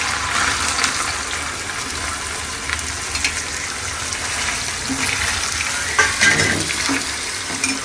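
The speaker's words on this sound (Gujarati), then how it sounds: "તો હવે આપણે પનીરને ફ્રાય કરી દઈશું" Paneer pieces fry in hot oil in a pan, a steady dense sizzle and crackle running throughout with occasional louder spits and stirring scrapes, no voices.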